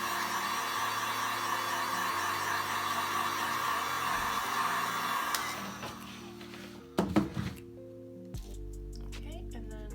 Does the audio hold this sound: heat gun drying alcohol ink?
yes